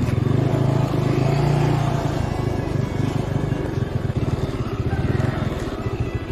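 Carbureted Yamaha F1 motorcycle engine revving close by, a steady loud throbbing idle with quick blips of throttle that make it surge and pulse, with no voices over it.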